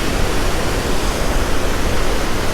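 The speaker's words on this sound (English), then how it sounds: "trying to pass a lot of that water down the Tittabawassee River now at this time" High-volume Tittabawassee River water rushing past the Secord Dam after heavy overnight rain, a loud, dense, unbroken roar like a waterfall, filling the whole stretch.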